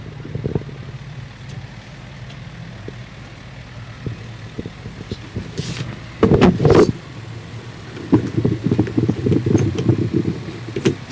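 A 2003 John Deere 4510 compact tractor rolls by in a lighted holiday tractor parade, its engine a steady low rumble with a louder swell midway as it passes close, amid crowd and street ambience.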